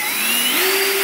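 Power drill boring a hole in a Bonafide dry pod, a loud, close, steady whine whose pitch rises partway through as the motor speeds up, heard alone.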